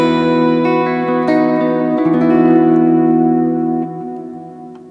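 An electric guitar played through a NUX MG-300 multi-effects unit on factory preset 7C rings out in sustained, layered notes and chords, picked a few times and then decaying, with no talking.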